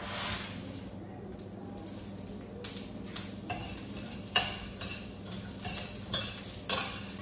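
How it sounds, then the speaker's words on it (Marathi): Ingredients tipped into hot oil in a pan on a lowered gas flame while making Malvani chicken, giving a steady sizzle broken by utensil clinks and scrapes as everything is stirred, close and moderately loud. "आता तेल गरम झालेलं आहे, गॅस थोडा बारीक करतो, सगळं टाकूया"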